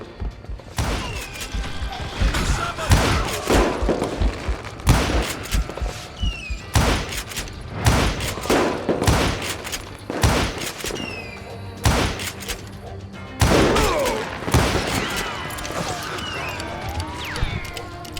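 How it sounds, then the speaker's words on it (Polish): Gunfire and explosive bangs in the Call of Juarez: Gunslinger video game, loud repeated sharp cracks and thuds arriving in irregular clusters over a rumbling game background, with a voice talking in places. "Co te fajerwerki mają oznaczać?"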